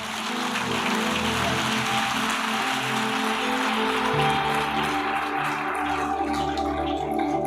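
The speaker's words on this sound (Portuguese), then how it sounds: "Alguém pode dar uma salva de palmas ao Senhor?" A church congregation applauds at an evening worship service, a dense, steady wash of clapping that fills the room throughout, with music or organ tones sustained underneath.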